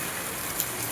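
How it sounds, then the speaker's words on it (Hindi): Heavy rain hisses in a dense, steady wash, with no voices. "अभी तक बारिश हो रही है"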